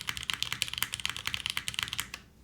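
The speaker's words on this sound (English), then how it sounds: "you'll get a good sounding keyboard of this for sure" Fast, steady typing on a top-mount mechanical keyboard, with crisp, closely spaced clacks heard up close and alone until the keystrokes stop just before the end.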